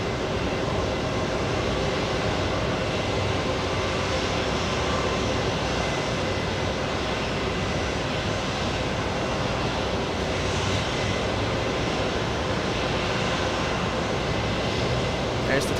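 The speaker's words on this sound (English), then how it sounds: "There's the touchdown for the Neo." An Airbus A320neo airliner landing and touching down at JFK airport, heard as a steady, loud broadband roar of engines and rushing air that holds constant throughout, with no distinct touchdown impact standing out.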